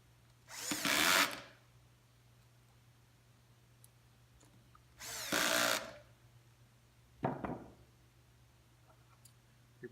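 A power drill drives screws into a Porter Cable 7518 router during reassembly, with three separate whirring bursts, the first two about a second long and the last shorter, close and clear over a steady low hum.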